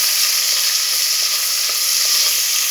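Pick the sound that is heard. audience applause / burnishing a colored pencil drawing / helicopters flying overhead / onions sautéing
onions sautéing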